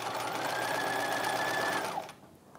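A sewing machine runs steadily, stitching the lining seam of a 1950s halter dress for about two seconds, then stops with the needle down. Only faint room tone remains afterwards.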